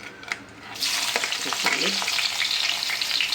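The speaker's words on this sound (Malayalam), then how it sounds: "ഓരോന്ന് ഓരോന്നിട്ട് കൊടുത്ത് മുപ്പിക്കാം ആദ്യം വെളുത്തുള്ളി ഇടട്ടെ" Garlic drops into hot oil for a mackerel and mango fish curry, bursting into a sudden loud sizzle after a moment of quiet. It keeps up a busy, crackling fry close by.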